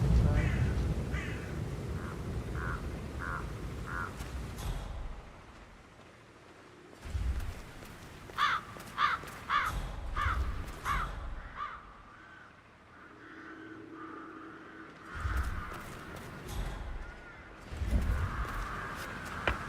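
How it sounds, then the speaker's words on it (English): Crows caw repeatedly in Hitman 3, the harsh calls coming in short bursts and clusters across the scene, fairly close and loud over a low game ambience, with no talking. "I'll never get rid of those stupid birds."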